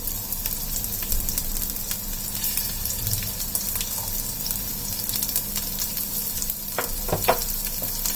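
Finely sliced small onion and fennel seeds sautéing in oil for chicken salna, a steady close sizzle with occasional stirring scrapes and a few sharper clinks near the end, no talking.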